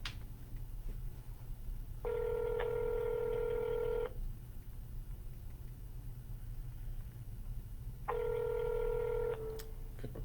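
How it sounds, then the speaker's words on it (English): A telephone placing a call back to a number gives two steady electronic tone bursts, one about two seconds long and a shorter one later, over a low background rumble. "I'm going to give him a call back here on that number in a moment"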